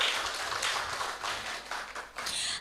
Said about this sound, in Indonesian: beri tepuk tangan yang meriah kepada Kak Adi serta para speakers